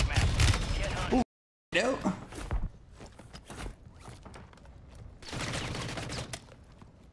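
Gunfire in Warzone 3 rattles in bursts near the start and again toward the end, with quieter footstep-like clatter between, as players talk briefly over it.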